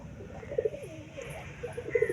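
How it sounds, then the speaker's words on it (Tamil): Karna pigeons cooing softly in a cage, with a few low, throaty coos spread across a quiet background. "இந்த வாட்டி நம்ம கூண்டில் வந்த கர்ணபுரா உண்மையாகவே ரொம்பவே அழகாக இருக்குது"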